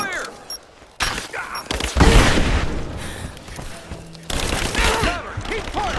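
Bursts of automatic gunfire and booming shots ring out in a Rise of the Tomb Raider firefight, loud and close in clustered volleys with brief lulls, while shouted voices call out between the shots.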